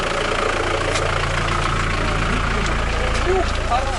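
A van engine idles and rumbles steadily at low speed while reversing, with background chatter and faint high-pitched squeaks.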